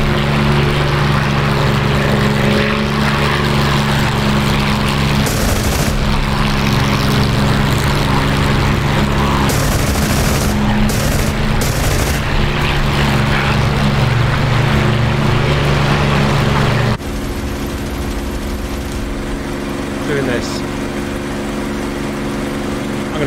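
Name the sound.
WWII fighter aircraft engine in a flight video game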